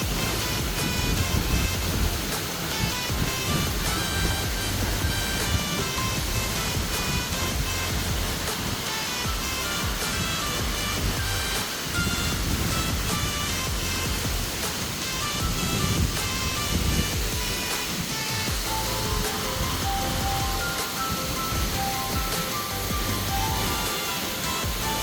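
A steady, dense roar of falling water from Bot-Olan Falls, a twin waterfall in San Teodoro, fills the whole stretch without break, loud and close, with no voices.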